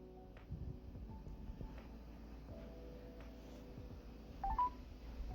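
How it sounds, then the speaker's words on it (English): Telephone dialing tones play over a speakerphone while calling a congressman's office, a short run of clear electronic beeps over a low background hum, with a brief louder tone pair near the end. "So I'm going to call the office of James Clyburn and put it on speakerphone for you"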